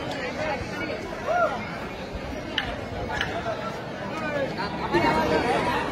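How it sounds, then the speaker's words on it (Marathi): Dense, steady chatter from a huge crowd of devotees packed into the Tuljabhavani temple, many voices overlapping into a close, continuous babble with occasional louder shouts. "गर्दी बघा प्रचंड गर्दी आहे"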